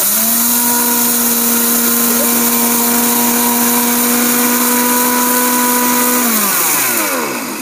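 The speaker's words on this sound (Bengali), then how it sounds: "ফার্স্ট টাইমে কিন্তু পালস দিয়ে নিতে হবে" Electric kitchen blender run on pulse, a loud close steady motor whine that holds at one pitch for about six seconds, then winds down as it is released.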